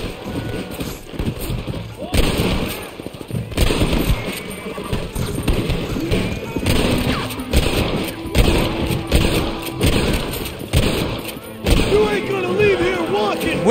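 Gunshots in the video game Red Dead Redemption ring out in scattered loud bursts amid horse hooves and thuds across a busy firefight, with someone talking over parts of it.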